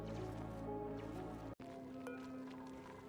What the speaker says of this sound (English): Water flowing in here